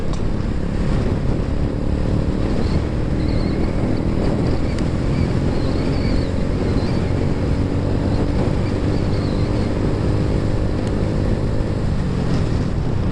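Heavy wind roars steadily against a microphone on a moving motorcycle, a constant buffeting rush with a low engine drone underneath, loud and unbroken throughout.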